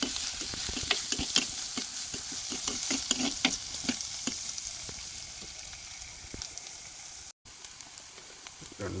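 Fish curry base with two slit green chillies fries in a pan, a bright continuous sizzle with a quick series of spoon stirs and clinks early on, easing later, no speech.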